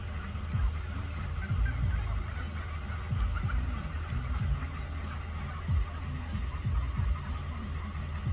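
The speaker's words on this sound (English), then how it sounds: "lot of turkeys" A flock of wild turkeys calling over and over in the mountains, overlapping gobbles and clucks against a steady low rumble.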